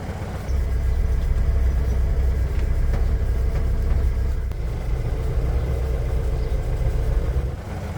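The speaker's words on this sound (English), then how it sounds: "jack up the truck and see if we can get the wheels to spin with no load on the clutch" A 1989 Chevy S10 pickup runs while raised on a jack, its wheels spinning freely with no load on the clutch; a steady low engine and drivetrain rumble holds evenly for several seconds, with no talking.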